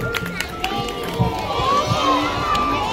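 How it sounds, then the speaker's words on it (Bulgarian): An audience at a kindergarten holiday talent concert cheers loudly, with children shouting and a lively crowd roar that builds over a few seconds, mixed with voices. "Аплодисменти!"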